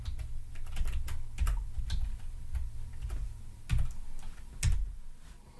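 Someone types a PowerShell command on a computer keyboard, producing quiet, close key clicks in irregular bursts with a few heavier thumps that sound like the space or enter key, and nobody speaks.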